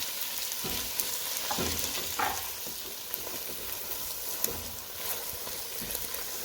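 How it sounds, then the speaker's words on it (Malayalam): Chopped tomatoes are sautéed with onions in a pan for egg curry, with a steady close sizzle and occasional scrapes and stirs. "നമുക്കിനി അരിഞ്ഞു വെച്ചിരിക്കുന്ന തക്കാളി കൂടി ചേർത്ത് വഴറ്റാം"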